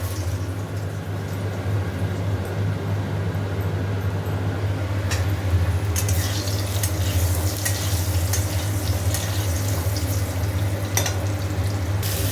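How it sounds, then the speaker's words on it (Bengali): Cauliflower and steamed potatoes fry in a pan with a steady, dense sizzle, joined midway by a few clear scraping stirs of a spatula, close and even with no one talking. "ফুলকপি দিয়ে দিয়েছি, ভালো করে লাল লাল করে ভাজছি।"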